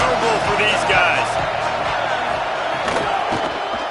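Stadium crowd at a USC at Virginia Tech college football game, a dense continuous roar with a commentator talking over it.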